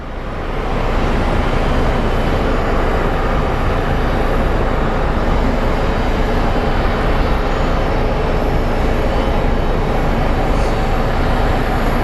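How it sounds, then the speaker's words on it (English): A passenger airliner, an Alaska Airlines jet, approaches on landing at Phoenix Sky Harbor International Airport, its engines a steady, loud, broadband roar that holds evenly throughout without voices. "we should be able to see the plane coming in"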